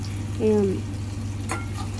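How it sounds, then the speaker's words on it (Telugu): Onions and green chillies frying in oil in a pan, a steady soft sizzle with a brief stirring scrape and a short tonal squeak, under a constant low background hum. "మనం కట్ చేసి పెట్టుకున్న ఆనియన్స్ కూడా ఇందులోనే వేసేసి ఫ్రై చేయొచ్చు"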